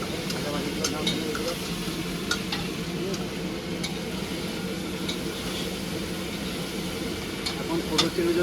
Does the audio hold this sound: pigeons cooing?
no